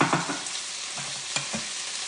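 Small tomatoes and chopped onion cooking in a pan for chipotle pasta, giving a steady soft sizzle with a few light stirring scrapes and taps, close and fairly quiet with no talk.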